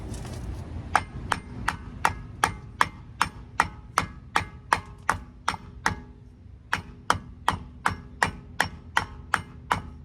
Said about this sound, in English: just a good old trusty